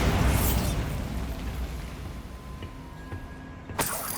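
Bombarda blasting spell going off in Hogwarts Legacy, a loud rumbling explosion that decays into a long low debris roar, with a sharp smaller pop near the end.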